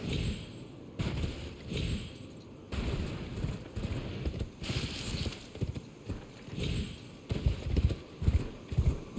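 Torrent, the spectral steed in Elden Ring, gallops with heavy rhythmic hoof clip-clops in quick repeated bursts, loud and close, with a few brief pauses between runs.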